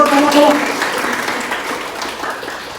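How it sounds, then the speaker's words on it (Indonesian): A university class joins in applause during a lesson, a dense wash of clapping that starts fairly loud and slowly fades, with a brief voice heard near the start. "luar biasa, tepuk tangan dulu."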